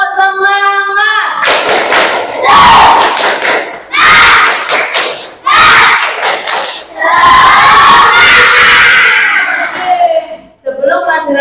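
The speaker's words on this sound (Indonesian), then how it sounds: "Tepuk semangat." Classroom of children performs a spirit clap chant, shouting in unison with sharp rhythmic claps and thumps in loud bursts, a teacher's voice leading briefly at the start.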